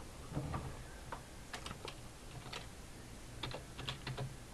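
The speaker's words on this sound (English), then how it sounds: "Let's go ahead and type in YouTube." Typing on a computer keyboard in Firefox, with scattered key clicks in short bursts at close range, fairly quiet over a steady background hiss.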